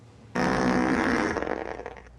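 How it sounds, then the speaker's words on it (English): A fart sound effect from the comedy film Little Fockers: one loud, abrupt burst that holds steady, then sputters and fades over about two seconds. "Ah yes, fart joke."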